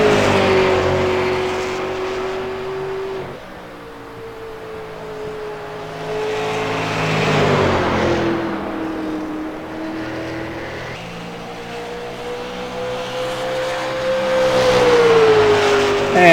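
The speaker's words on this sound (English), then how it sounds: "here comes Matt Owens in that TMC Racing 77 Ford Mustang" A Ford Mustang super late model race car in a sim racing game at Phoenix drones loudly and steadily, its engine note rising and falling through gear changes and throttle swells, with no voices.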